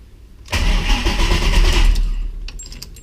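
A 2006 Mustang with a swapped Coyote V8 cranking over, a loud close churning starter-and-engine burst that runs for a couple of seconds and then drops away.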